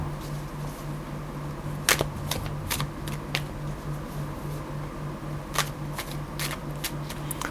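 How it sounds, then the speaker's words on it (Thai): Tarot cards being shuffled, a series of quick crisp riffling snaps spread irregularly over several seconds, close and moderately loud over a low steady hum. "เราจะ ทำการ สับไพ่นะครับ"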